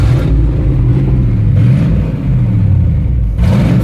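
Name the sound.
GMT 400 truck engine running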